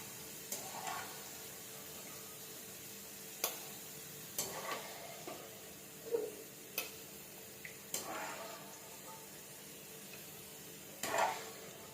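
Potato pieces frying in hot oil in a pan, a faint steady sizzle broken by occasional sharp clicks and scrapes of a spoon stirring, close and quiet with no talk.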